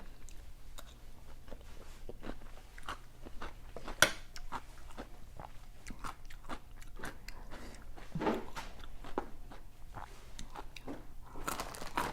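Crunchy bites and chewing of Thai cucumber salad (tam taeng), a series of sharp, close crunches scattered irregularly over a steady low background hum, with a louder burst near the end.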